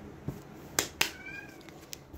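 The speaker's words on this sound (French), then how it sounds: "mon chat qui veut sortir maintenant" A house cat wanting to go outside lets out a faint, thin meow partway through, set among a few soft clicks and taps in a quiet room.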